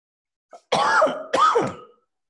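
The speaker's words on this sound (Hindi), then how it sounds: "थोड़ी खांसी हो गई है, क्षमा चाहेंगे।" Two harsh, throaty coughs close to the microphone, the first with a rasping throat-clearing quality, each lasting about half a second, with silence around them.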